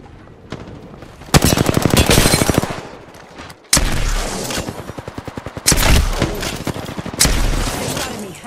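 Apex Legends gunfire: long automatic bursts of rapid, evenly spaced shots, loud and close, broken by short pauses and heavy booming impacts, with no talking.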